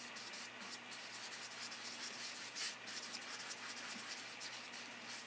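A paintbrush sweeps paint across a canvas in a continuous soft, dry brushing rustle, close and fairly quiet, with no pauses or voices.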